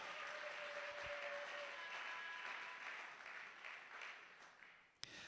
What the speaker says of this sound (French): Est-ce qu'on peut acclamer d'abord pour Jésus?